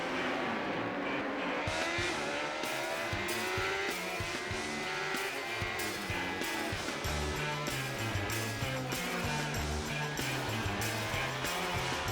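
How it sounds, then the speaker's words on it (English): AMA Superbike motorcycles from the 2005 season accelerating hard off the race start, a dense wall of high revving engines with overlapping gear changes under a commentator's voice. "Ben Spies and Aaron Yates getting the big start"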